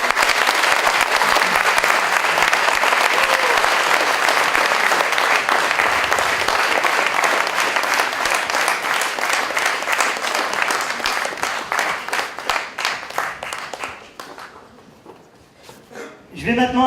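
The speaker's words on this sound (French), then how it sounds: "Faites un tonnerre d'applaudissements pour Ramel Kassamel." Audience applause at an opening ceremony in Villejuif, France: dense, loud clapping that holds steady, then thins into scattered individual claps as it fades near the end.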